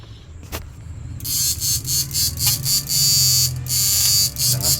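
A repaired XB-99000W appliance with a replaced SCR and DB3 runs its motor close up, a loud buzzing hum that surges and dips in rapid bursts, with someone talking underneath.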